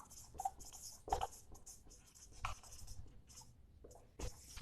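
Writing on a board during a chemistry class, faint intermittent scratching strokes and light taps spaced irregularly in a quiet room, with no talking.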